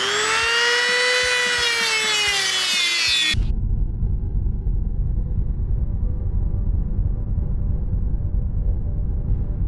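A power tool cuts the head off a screw during a plumbing hack, starting with a high whining, rising motor tone for about three seconds, then shifting to a steady, loud, rough grinding rumble that continues without talk.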